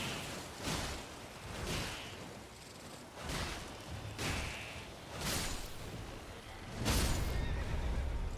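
Horse in the Elden Ring video game whinnying repeatedly, about six loud neighs spaced roughly a second apart with hoof and whoosh noises between them, no talk over it.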